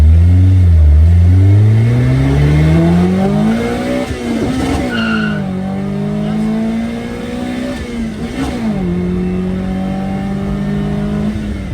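A VVL-engined Mazda 323 is driven hard, its engine loud and close as it revs up and down through several gear changes, with a tire squeal near the middle.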